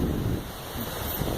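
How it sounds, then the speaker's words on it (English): Wind gusts steadily across the microphone at Glen Island Park, a seaside park in New Rochelle, New York, on a cloudy, damp day. It forms a dense, constant roar with no voices. "You may hear the wind in the background."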